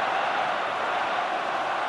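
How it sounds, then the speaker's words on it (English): Stadium crowd at a Champions League match applauding an Erling Haaland goal, a steady, dense wash of clapping filling the ground without pause. "Applause all around the ground, and the coach Pep Guardiola joins in"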